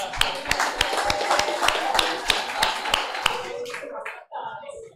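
Group applause on a talk show, sharp, distinct claps in a fairly regular rhythm, close and lively, breaking off near the end before some brief voices.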